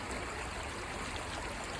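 Creek water flows steadily over quartz veins and bedrock, a continuous close rushing wash with no other sounds.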